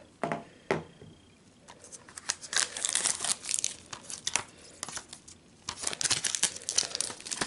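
Plastic wrap and tape being peeled and torn off a Goodfellas DVD case, crinkly crackling bursts coming in irregular spurts with short quiet gaps, close and fairly loud.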